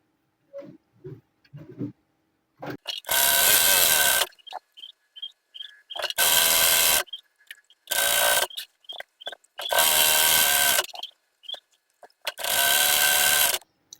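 A sewing machine stitches round the edge of a structured cape with a 0.5 inch seam allowance, running in five loud sustained bursts separated by short pauses, soft handling clicks and fabric rustles.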